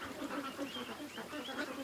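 Ducks quacking in a bush, a steady run of nasal calls overlapping one another, moderately loud and close, with no talking over them.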